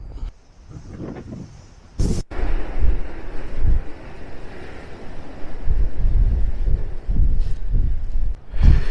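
Strong gusting wind buffets the microphone on an exposed Lake District fell on the climb to Thorntwaite Crag, roaring loudly and steadily with heavier low rumbling bursts throughout.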